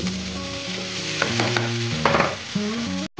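A spoon stirs singara filling for puli pitha in a hot pan, with scraping strokes and a light sizzle over steady background music.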